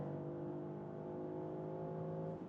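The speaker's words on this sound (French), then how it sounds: "Et encore une fois, à 190, ça va si vite et c'est tellement fluide." Porsche Panamera e-Hybrid 2025 cruising at about 190 km/h in Sport Plus mode, a steady close engine drone with road and wind roar holding evenly throughout, no talk.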